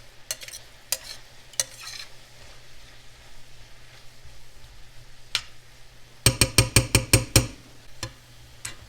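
Onions cook in a pan, giving a low steady sizzle under scattered stirring clicks and a burst of rapid scraping strokes near the end, with no talking.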